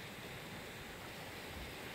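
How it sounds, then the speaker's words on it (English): A creek by a campsite in Idaho gives a steady, faint wash of flowing water, even and unbroken throughout, with no voices. "we've got this beautiful creek here"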